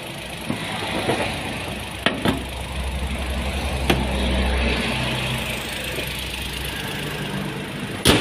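A car engine idles steadily at moderate level while warming up, a continuous low rumble with a few sharp clicks and knocks over it and no voices.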